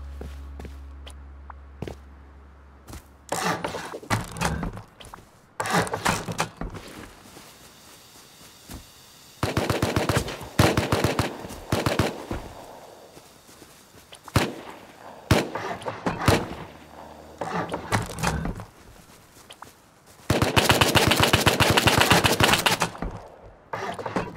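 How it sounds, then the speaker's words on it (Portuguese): Video game gunfire rattles during a multiplayer survival shootout, with bursts of rapid automatic fire and single loud shots. The shots come in clusters separated by quieter stretches, mixed with footsteps and thuds. "Tô no meio do tiroteio"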